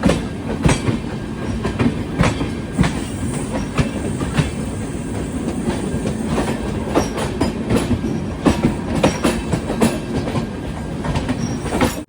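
The Lucknow Mail passenger train rolls steadily along the rails approaching Ghaziabad station, wheels clicking and clacking in a rhythmic pattern with a loud, continuous rumble and no voices.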